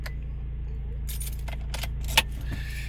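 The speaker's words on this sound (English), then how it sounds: "turn the key to the on position" Car keys jingle at the ignition of a 2018 Ford Transit Custom van, a few bright metallic rattles and one sharp clink over the steady low hum of the idling engine.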